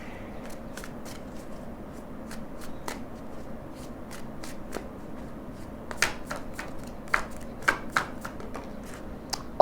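Tarot cards being shuffled by hand, a steady run of crisp riffling flicks and taps that grows into sharper snaps near the end, close and moderately quiet with no talking.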